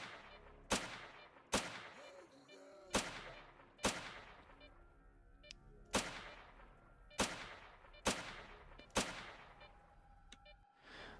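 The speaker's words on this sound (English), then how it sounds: "Seems like grenades are very effective against mutants" Grenades go off in Fate of the Zone, eight sharp explosions spaced about a second or two apart, each with a quick crack and a fading rumble, with faint background noise between them.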